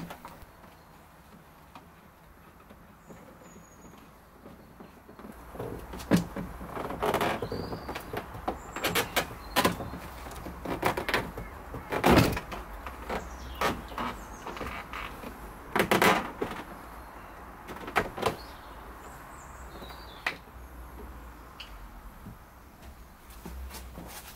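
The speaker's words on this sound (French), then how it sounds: "Pour accéder à la partie basse du joint, l'idéal est de démonter le panneau de porte." A door panel coming off a Volvo 480 Turbo during restoration: irregular clunks, pops and scraping knocks of trim clips and panel being pried, close and intermittent, over a quiet background with no speech.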